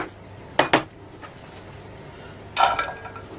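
Chopped onions and vegetables are dropped into a cooking pot, making two quick clattering bursts of metal and food and then a second rattling tumble a few seconds later, close by in a quiet kitchen.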